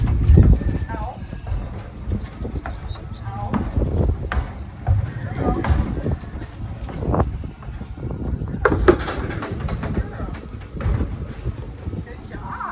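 Horse named Siena backing out of a trailer, with irregular hollow hoof thumps and clops on the trailer floor and ramp, close by, as a person talks over much of it.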